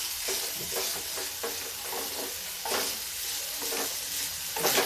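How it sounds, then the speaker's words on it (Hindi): Vegetables with turmeric being stir-fried in a pan give a steady close sizzle broken by repeated scraping strokes of a spoon. "तो भूनेंगे थोड़ा सा"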